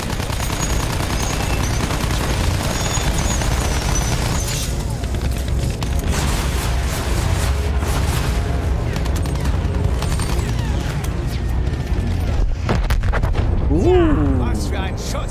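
Battlefield 1 combat rages with dense, continuous gunfire and booming explosions, loud and close, ending in a rising whistle-like sweep near the end.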